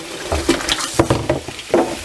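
Blanched tomatoes tumble into a bowl of cold water with a quick run of close, distinct splashes and plops, several sharp hits spread over two seconds.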